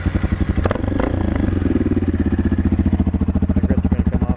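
A Honda CRF230L dirt bike engine sputters to life and settles into a loud, rapid, chugging idle close by.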